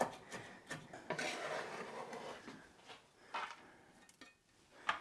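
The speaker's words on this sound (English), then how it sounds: "I'll just keep running my knife through until this is nice and fine" A kitchen knife rocks and taps over soft, wet food on a cutting board during Sunday meal prep for a risotto, with repeated light scraping and clinking strokes at an uneven pace.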